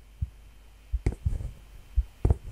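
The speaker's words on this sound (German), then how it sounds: "Ich höre wieder meinen Herzschlag." Heartbeat effect in a German horror video game, a low thumping pulse repeating in doubled beats several times, close and moderately loud over a faint hum, with no talking.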